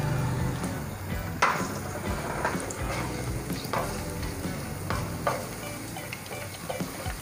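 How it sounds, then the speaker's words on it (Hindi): Cumin seeds hit hot oil in a pan for a bottle gourd raita tempering, giving a steady close sizzle with several soft crackles and pops, no voices over it. "इसमें हमने थोड़ा सा ज़ीरा डालना है तकरीबन 2 टीस्पून के डाल दें"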